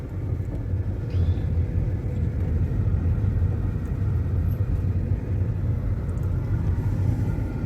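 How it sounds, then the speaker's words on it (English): Tobacco-laden lorries at an auction floor in Zimbabwe rumble past nearby, a steady low engine drone filling the whole stretch with no talk. "All these lorries that you see with tobacco"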